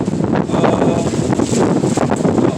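Strong outdoor wind buffets the microphone in a steady, loud, broadband roar with gusty swells and rustling throughout, no voice present.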